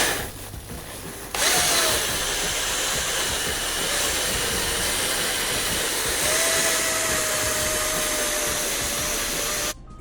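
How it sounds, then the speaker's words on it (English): A cordless drill fitted with a carpet brush attachment scrubs the carpet of an Alfa Romeo Giulietta, giving a loud steady whirring drone with a rising whine after a short quieter start. "what I'm going to do now is just use the drill bit, just this attachment, just going in"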